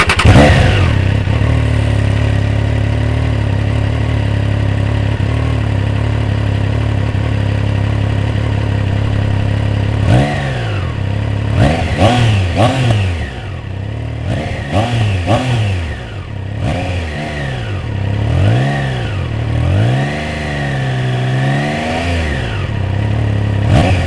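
A 2021 Triumph Trident 660 motorcycle engine idles with a steady low hum, then revs in repeated rising and falling bursts that sweep up and down, loud and close, with no talking.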